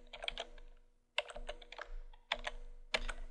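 Keys clack on a computer keyboard while an invoice routing form is filled in, coming in quick bursts of close, crisp strokes separated by short pauses, with no talking.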